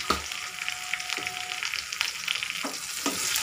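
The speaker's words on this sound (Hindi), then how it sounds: "ये देखिए हम हींग डाल रहे हैं।" Asafoetida hits hot oil in a pan for a dhaba-style green pea kachori filling, giving a steady close sizzle broken by a few faint scraping stirs.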